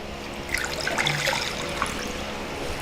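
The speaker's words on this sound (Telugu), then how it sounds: "కాకరకాయలు ఉడికించుకోవడానికి సరిపడా నీళ్లు వేసుకుందాం" Water poured into a cooking pot on a stove for boiling bitter gourds, a close trickling, splashing stream with bubbly spatters, steady throughout and without talk.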